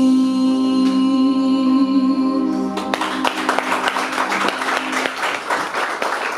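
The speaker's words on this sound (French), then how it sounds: "Applaudissez encore, applaudissez encore." A graduation ceremony audience breaks into applause after a sustained musical tone, with moderately loud, many-handed clapping that continues to the end.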